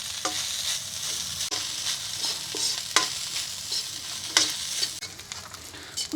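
Fried rice sizzles steadily in a hot pan while a utensil scrapes and stirs every second or so, close and moderately loud, with no talking.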